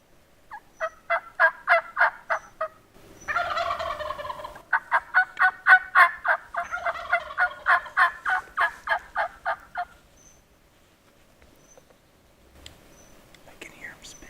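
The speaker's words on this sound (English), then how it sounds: "I can hear him spitting and drumming." A wild turkey gobbler in the Washington woods on opening day of hunting season, sounding repeated rapid gobbling bursts in close succession at moderate distance, with faint whispering between calls.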